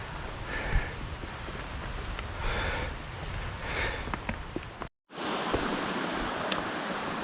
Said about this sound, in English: So a beautiful little water source here